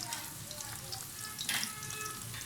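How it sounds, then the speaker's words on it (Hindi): French fries sizzle in hot oil with a soft, constant crackle and a brief louder spitting burst midway, heard close but fairly quiet. "ये मैं बाकी की फ्राइज़ भी फ्राई कर लूँगी"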